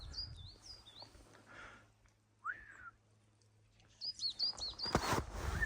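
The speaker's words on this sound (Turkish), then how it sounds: "Bizim, bizim bülbüllerimiz ötüyor." Nightingales sing at Erciyes ski resort in Turkey, clear whistled notes and quick chirps, fairly faint and spaced out over a quiet background, ending with a brief rustle.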